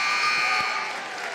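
A loud, steady electronic buzzer sounds at the end of the half in a high school boys' basketball Section 3 Class D semifinal, ringing for about half a second before cutting off into gym crowd noise.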